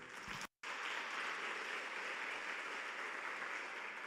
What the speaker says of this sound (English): a big round of applause for that lovely reflection of the past 2 days.